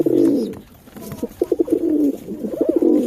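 Madrasi pigeons coo inside a coop, several soft, throaty rolling calls repeating close by, with a brief lull before the cooing picks up again in a steady rhythm.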